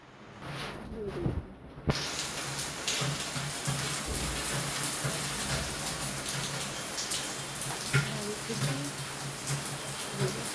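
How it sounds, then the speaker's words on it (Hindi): Heavy rain pours down in a dense, steady hiss after a brief quieter moment at the start, loud and continuous throughout. "बारिश बहुत तेज़ हो रही है, मैं आप लोगों को बारिश दिखाती हूँ।"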